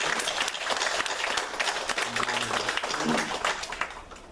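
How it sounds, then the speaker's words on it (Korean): Church congregation applauding retired deaconesses at a Sunday worship service, a broad patter of clapping that fades toward the end, with faint voices mixed underneath. "여러분들 격려의 박수 부탁드립니다."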